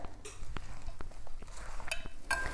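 Scone dough for apple pie scones being mixed in a bowl, with soft scraping and a few clinks of a utensil against the bowl, close and fairly quiet, no talk.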